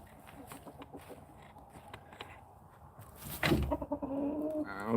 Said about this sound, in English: Okay, 3 chickens have cooped up.